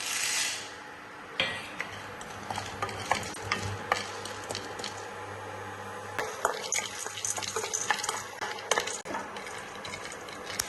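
Homemade coffee beans are dry-roasted in a pan, with close scraping stirs and light rattling clicks as the beans shift and tumble, and a faint crackle under them.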